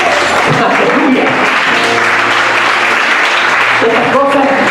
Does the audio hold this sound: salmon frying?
no